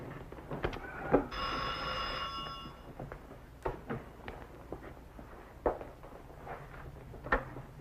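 A telephone bell rings in a quiet room in a 1970s TV drama, a sustained burst near the start with a few clicks and footstep-like knocks around it, heard alone without talk.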